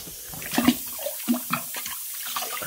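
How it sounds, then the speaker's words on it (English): Water rinsing over aluminium during cabinet work on a boombox build, heard as a few irregular splashes and spatters, fairly close and quiet, with no talking. "I'll just give the aluminium a rinse as well."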